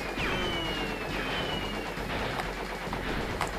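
Fireworks effect from the video game Crash Bandicoot 3: a string of crackling pops and bursts with whistling streaks, steady and fairly loud throughout with no talking.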